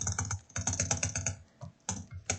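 Computer keyboard keys pressed rapidly during gameplay, with aiming and spacebar shooting controls: dense clusters of clacking keystrokes in quick bursts, close and clear, with short pauses between runs and no talking.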